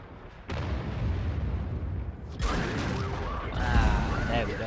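Tank cannon fire in World of Tanks battle: two sharp, heavy booms a couple of seconds apart with rumbling decay, mid-distance, with a voice talking over the later part.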